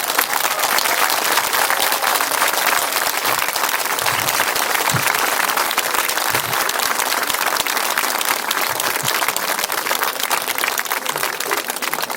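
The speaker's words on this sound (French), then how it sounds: "Mesdames et messieurs, je vous demande d'applaudir comme il se doit Madame Génie Clève." An audience at a baptism celebration applauds continuously and loudly, a dense, even wash of many hands clapping that holds steady from start to finish with no talking over it.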